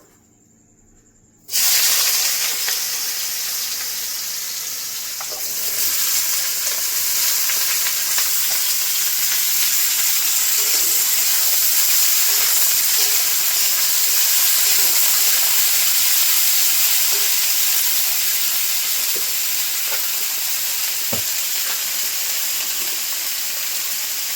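Potato and bitter gourd hit hot mustard oil with a sudden loud sizzle that settles into a steady, close, hissing fry, continuing unbroken with faint crackles throughout.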